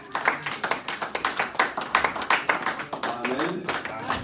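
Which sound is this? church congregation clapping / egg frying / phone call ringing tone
church congregation clapping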